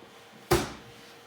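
A wooden drawer is pushed onto undermount drawer slides, giving a single sharp thump at close range that quickly fades into quiet room tone.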